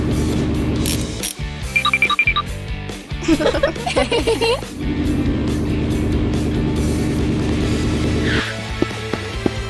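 A borrowed cartoon car with the Pig family squeezed inside shakes and crawls along slowly, giving off a busy run of rattling, ratchet-like clicks and comic mechanical squeaks over a steady engine hum.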